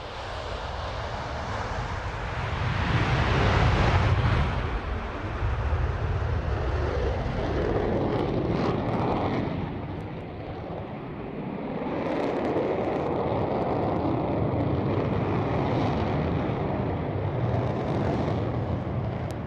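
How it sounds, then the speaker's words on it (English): The jet engines of an Avro Vulcan B2 bomber roar steadily, swelling and rumbling as it rolls for takeoff, heard from nearby with no talking. "starting its takeoff roll is the Avro Vulcan B2"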